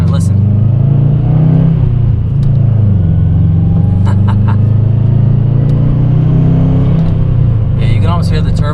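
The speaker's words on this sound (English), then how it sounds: "you buy a Subaru for the, you know, tunability and the exhaust note, that typical Subaru exhaust note" A 2013 Subaru WRX hatchback's exhaust, a loud, steady low rumble of the turbo engine that swells slightly as it revs, heard close up throughout with someone talking over it.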